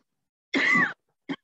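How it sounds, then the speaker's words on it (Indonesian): A single harsh cough, brought on by cooking smells, followed by a second short, quieter cough a moment later, close and alone. "Ini kenapa saya batuk? Karena ada bau masakan."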